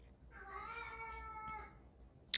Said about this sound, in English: I don't know if you heard my cat